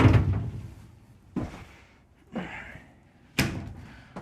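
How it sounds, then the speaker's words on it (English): A large swinging glass shower door in the master bathroom of a 2025 Newmar Mountain Aire 3825 motorhome closes with four separate thuds and knocks, each one close and firm, fading briefly before the next. "it is a swinging glass door, and it is rather large"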